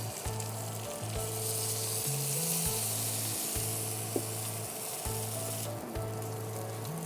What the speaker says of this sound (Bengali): এখন আমি এই পর্যায়ে নারকেলের দুধটা সম্পূর্ণ দিয়ে দিব